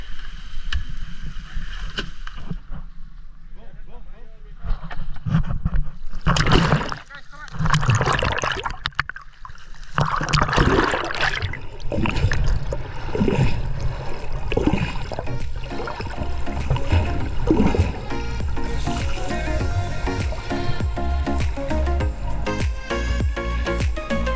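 A boat motor drones and rises as the craft speeds across the sea off Baja California, with splashing and wind noise and people talking at times.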